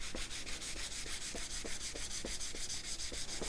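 Hand sanding of a wooden Smith & Wesson revolver stock makes a quick, regular rasping back-and-forth rhythm, about four strokes a second, steady and close with no talking.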